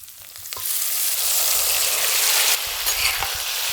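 Two large onions sizzling in a little hot oil in a village-style kitchen pan, a loud continuous hiss that swells after a second and carries faint stirring scrapes throughout.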